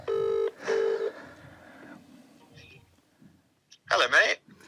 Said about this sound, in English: I'm tempted to get you to phone Jackson.